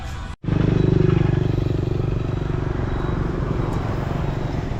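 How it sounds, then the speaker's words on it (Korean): A motorcycle engine drones steadily while riding in Vietnam, with a constant low hum and rushing wind noise, close and continuous. "오토바이 타고 이동하다가"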